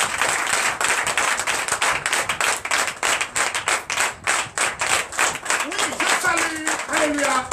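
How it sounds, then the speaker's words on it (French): Church congregation at a Sunday service in Comè, Benin claps rhythmically in loud, steady bursts while acclaiming Jesus, with a voice rising over the clapping toward the end. "Donnez l'acclamation à Jésus."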